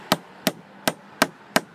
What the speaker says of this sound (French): Pour taper au marteau c'est toujours plus facile. Donc là on met le deuxième clou.